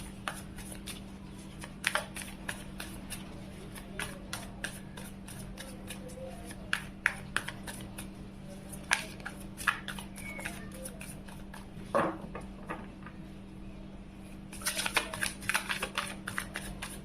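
Tarot cards being shuffled by hand at a reading, a steady run of soft riffles and taps close up, with a low constant hum underneath and no talking.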